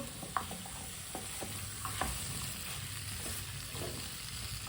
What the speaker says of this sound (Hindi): आलूओं को अच्छी तरह मिक्स कर लिया मैंने